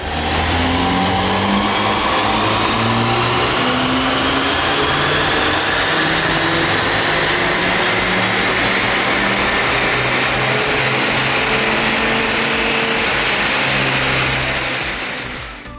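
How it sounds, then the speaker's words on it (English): A Volkswagen Polo GTI engine with stage 1 tune and ram air induction revs on a dyno in one long, smooth pull, its pitch climbing steadily through the gears, loud and close, then dropping off. "as you can hear from the dyno run, it was a nice smooth run"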